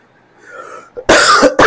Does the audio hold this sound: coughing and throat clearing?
yes